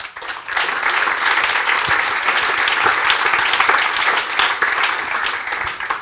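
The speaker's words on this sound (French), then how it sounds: "Bravo, Livio et Emilio, vous pouvez l'applaudir." An audience bursts into loud, sustained applause after a startup pitch at the Start-up Next Tourisme 2025 contest, dense clapping with no voices, fading slightly at the close.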